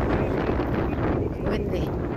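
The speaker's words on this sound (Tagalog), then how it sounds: "Windy." Wind gusting across a microphone outdoors at an early-morning jogging area, a steady low rumbling buffet that fills the whole stretch with only slight swells.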